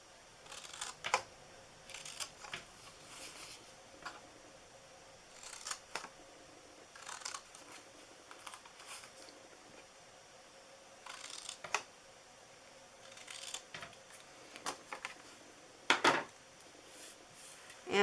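Scissors cut through thick white cardstock for the top of a handmade Christmas gift box, giving quiet, close snips and crisp slicing strokes in scattered short bursts with pauses between.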